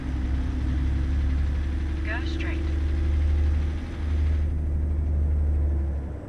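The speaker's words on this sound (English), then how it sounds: "At least our engine sounds good though, right?" A video game truck engine, in American Truck Simulator, idles with a steady low rumble and slight dips in pitch, continuous throughout, with a brief chirp-like sound in the middle.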